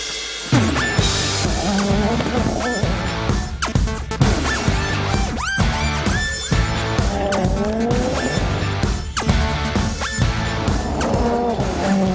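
Rally cars at WRC Rally Italia Sardegna race past on gravel with revving engines, gear changes and tire skids, each pass rising and falling in quick succession, loud and close.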